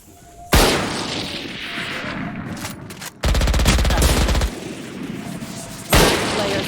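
Gunfire in a tactical shooter game: a sharp loud blast, a sustained hail of rapid automatic shots in the middle, and another close heavy shot near the end, all dense and forceful.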